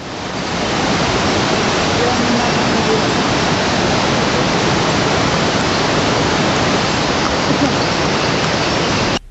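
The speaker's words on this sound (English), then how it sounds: "We could also see River Mandakini, which was flowing by our side on a wild rocky bed." The Mandakini river rushes over a wild rocky bed along the trail between Gourikund and Kedarnath, a loud, steady, close roar of whitewater that runs unbroken throughout.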